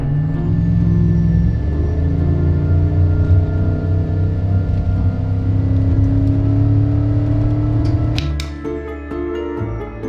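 An Audi S6 wagon with a belt-whine fault drives along, its engine droning loud and close with a thin steady whine riding above it; the engine pitch shifts near the end as the car slows.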